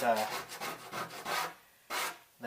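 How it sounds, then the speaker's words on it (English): Soft-edged scraper rubbing old foam adhesive off the painted body of a Mazdaspeed Protege where a badge was attached, a series of short, faint scraping strokes with brief pauses between them. "You can see how easily that scraped off that"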